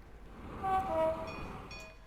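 A train passing through a station in the OpenTTD game, a short low rumble that swells and fades within about a second, with a faint horn-like tone on top.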